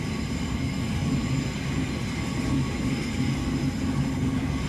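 A Virgin Pendolino train passing on a British main line, heard as a steady, loud rumbling roar of wheels and carriages that holds without a break, with no talk over it.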